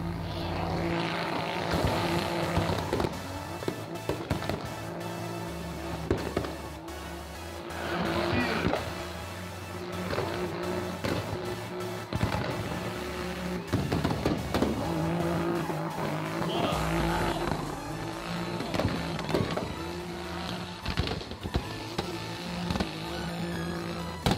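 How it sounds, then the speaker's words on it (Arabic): A turbocharged 2500 cc BMW E36 and other race cars at a motorsport heat, engines roaring loudly and continuously with repeated revving surges and tyre squeal throughout, no talk over it. "ورقم 17 كان ماجد ابو سليم مع بي ام دبليو اي 36 2500 سي سي تيربو"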